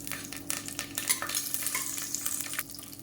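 Curry leaves crackle and sizzle in hot oil alongside whole spices, a busy frying hiss with scattered pops and stirring scrapes, fairly close.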